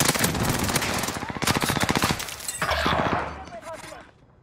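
Rapid bursts of PPSh submachine gun fire in the video game Rebirth, a dense rattling stream of shots close and loud that tails off near the end, with voices talking over it.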